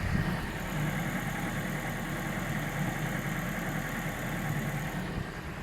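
A Ford Focus 2 with a 1.6-litre, 115 hp petrol engine idles with a low, steady rumble and a faint rapid knocking tapping throughout, heard close up without talk.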